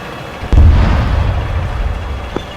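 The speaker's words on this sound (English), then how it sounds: "move out of the objective 1 to avoid the artillery barrage" A heavy artillery barrage in a military video game: one deep, loud boom strikes and rolls into a sustained low rumble, with a fainter second thump near the end.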